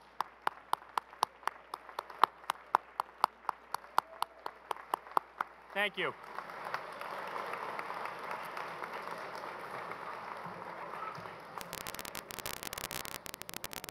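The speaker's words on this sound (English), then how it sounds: "let's give them a round of applause," Audience applause for graduates at a Duke University commencement: a rhythmic burst of loud, distant clapping rolls on across a large crowd, then fades into broad crowd noise and amplified speech.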